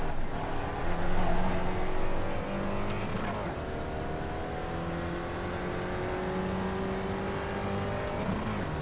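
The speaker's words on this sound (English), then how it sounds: "A couple of cars out on track working together." Spec Racer Ford race cars lap the track at VIR, engines droning and shifting pitch as they pass, steady rising tones under a commentator's voice throughout.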